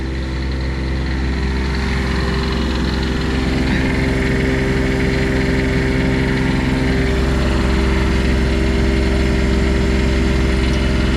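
An RV generator sitting on air spring isolator mounts runs with a steady, loud engine drone and a low, even hum throughout, with no one talking.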